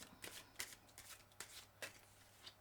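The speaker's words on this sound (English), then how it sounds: "I'm just going to have one more shuffle" Ancient Italian tarot cards are shuffled by hand in a quiet room, making a series of quick, crisp riffling bursts at irregular intervals, close and soft with no talking.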